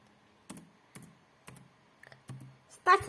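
Laptop computer keyboard keys tapped one at a time at a slow, even pace, about six distinct clicks, the last one a firmer press of the Enter key, close and clear with no talking.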